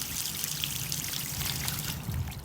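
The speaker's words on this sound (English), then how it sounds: "take and just run water through it" Water from a hose runs through a car heater core, a steady close splashing pour and trickle with no talk.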